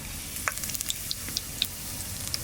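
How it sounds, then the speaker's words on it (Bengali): Whole cumin seeds and two bay leaves frying in hot oil, a steady close sizzle with scattered sharp pops and crackles. "এবার এই তেলের মধ্যে কিছু গোটা মশলা দিয়ে দেবো গোটা গোটা জিরে দুটো তেজপাতা"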